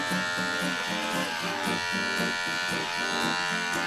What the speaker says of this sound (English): Are you shaving it all off?